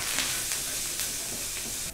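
A steady, loud sizzle of curry leaves frying in hot oil, with bright crackles popping through the hiss.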